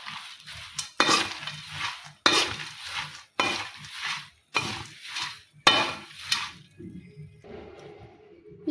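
A spoon scrapes and clinks through spicy North Karnataka-style chooda snack as salt is mixed in, making about six loud, close strokes in a steady rhythm before fading to a quiet background hum.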